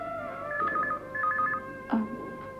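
An electronic phone tone warbles in two quick bursts over a steady background hum, followed by a short soft clunk.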